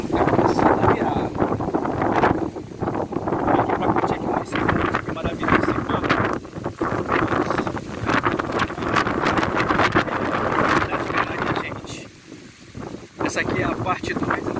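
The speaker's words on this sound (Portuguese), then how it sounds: "está ventando muito" Strong wind buffets the microphone on a hilltop trail in the Serra da Capoeira Grande park, roaring steadily and loudly throughout with gusty swells, as the weather starts to turn.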